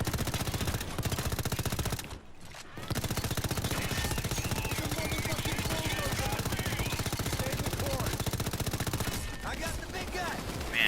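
Rapid automatic weapon fire in the heist shooter Payday 2, a dense, continuous stream of shots that breaks off twice briefly, close and loud, with a voice faintly underneath.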